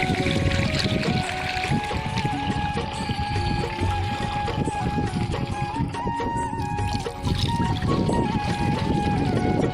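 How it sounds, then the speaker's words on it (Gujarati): Liquid pesticide pours steadily into a farm sprayer pump tank outdoors in a pigeon pea field, a continuous close splashing gush with faint voices in the background. "આપણે પંપ ભરવાનું ચાલુ કરી દીધું છે"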